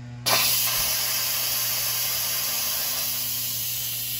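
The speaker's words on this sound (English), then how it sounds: "so let's quick release the steam." Instant Pot electric pressure cooker venting steam on quick release after cooking cauliflower, a sudden loud hiss that starts abruptly and holds steady, fading only slightly.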